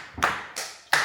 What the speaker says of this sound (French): On s'applaudit. On s'auto-applaudit.